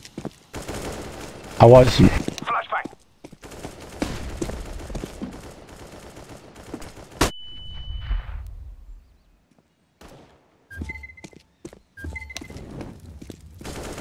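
Gunfire in Counter-Strike: Global Offensive crackles in short loud bursts near the start, then quieter scattered shots and footsteps follow, with radio chatter and a voice speaking briefly over the action.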